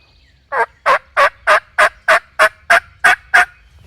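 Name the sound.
wild turkey gobbling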